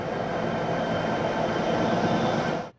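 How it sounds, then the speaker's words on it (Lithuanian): A passenger train leaving Lithuania for Riga rumbles in a dense, steady roar of rolling wagons, then cuts off abruptly at the end. "Pirmasis traukinys iš Lietuvos tiesiai į Rygą išvyksta štai dabar."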